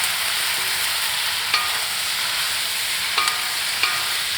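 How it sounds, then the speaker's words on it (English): Sauce for Indo-Chinese mixed vegetable noodles heats in a wok with a steady, close hiss of sizzling, broken by a few soft utensil clicks. "Next one, I will heat up the sauce."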